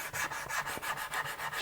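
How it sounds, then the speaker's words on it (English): Hand sanding of wood with 180 grit sandpaper on a small round DuraBlock sanding block, smoothing the bevels of a custom guitar body: steady, close rasping back-and-forth strokes in a quick regular rhythm, with no talking. "I've got some 180 grit sandpaper on my round little DuraBlock sanding block here"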